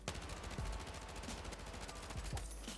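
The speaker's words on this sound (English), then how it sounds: "you shouldn't be able to laser someone with an SMG from 100 meters away like that" Rapid SMG gunfire in the video game Battlefield 6, sustained and dense with repeated sharp shot bursts running through the whole stretch at a loud, close level, with no talk over it.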